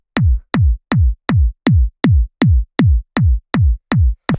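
A short layered kick drum, run through an overdrive send that thickens its mid-range, thumps eleven times in a steady four-on-the-floor pulse, each hit loud, punchy and saturated with a brief low tail, with no voices present.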